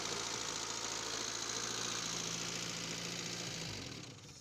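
A ZAZ Slavuta car engine idles close by with a steady, even rumble and light mechanical ticking, fading down as it shuts off at the end.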